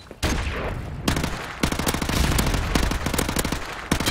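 Rapid video-game gunfire in a shooter: dense bursts of automatic shots and single cracks, loud and close, coming in several volleys over about four seconds.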